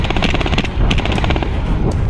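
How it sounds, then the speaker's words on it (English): Airsoft guns firing during an outdoor airsoft game, a rapid close series of sharp snapping shots in quick bursts that keep going throughout, loud and busy. "The people are shooting at us behind this dirt mound."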